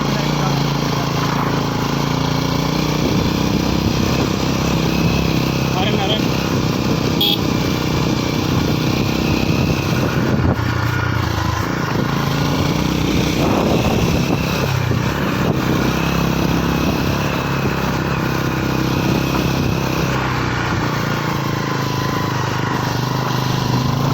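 A motorcycle climbs uphill on a rough village off-road track between Btg and Kholesbang, its engine droning loudly and continuously up close amid wind and road noise, with some voice underneath.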